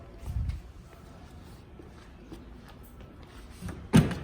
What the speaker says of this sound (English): Opening up your entry door